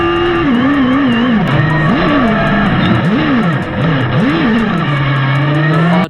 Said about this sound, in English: it was time for the demo run, and I managed to mount the GoPro facing backwards on Kenny's car